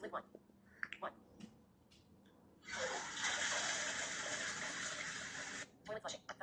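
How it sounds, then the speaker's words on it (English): A toilet flush plays as a sound effect in a sound matching game, a steady rushing gush of water lasting about three seconds between bursts of people talking. "Toilet flushing."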